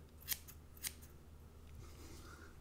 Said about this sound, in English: You just get in there. Start snipping.